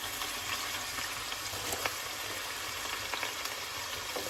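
Beef strips hit bubbling oil in a stir-fry pan and sizzle with a steady, dense crackle, with a few sharper pops standing out over the continuous frying hiss.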